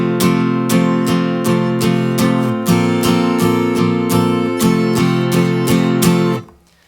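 An acoustic guitar is strummed in a steady down-up-down pattern for a worship song, with crisp repeated chord strokes in regular rhythm, played close and alone before ringing out at the end.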